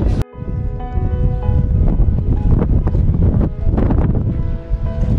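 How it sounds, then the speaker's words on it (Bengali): Strong wind at Mont Saint-Michel buffets the microphone in a loud, continuous roar with gusting swells and rustle, filling the whole stretch with no voices. "দারুণ হাওয়া দিচ্ছে।"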